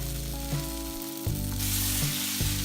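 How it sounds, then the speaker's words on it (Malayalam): Sliced onions sautéing in a pan for Kerala egg roast, a steady close sizzle broken by several stirring scrapes at regular intervals, no voices. "സവാള നന്നായി വഴന്ന് വന്നിട്ടുണ്ട്."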